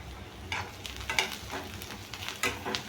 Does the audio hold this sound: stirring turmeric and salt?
yes